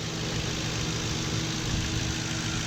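A 4.6 liter V8 in a 2008 Crown Victoria Police Interceptor idles steadily with a close, even rumble and no voices.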